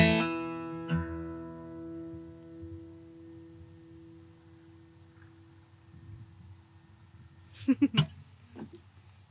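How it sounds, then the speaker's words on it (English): Crickets chirp steadily outdoors through the whole stretch, a continuous high trill after a fading musical tone at the start, with a few brief knocks and rustles near the end. "I just love the crickets so much."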